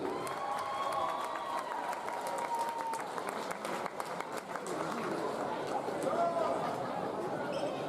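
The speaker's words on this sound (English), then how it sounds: "One more round of applause for Safford Dance Academy" Crowd at a college men's basketball game applauding a dance academy's performance, steady broadband clapping mixed with cheers and chatter, a voice talking over it near the start.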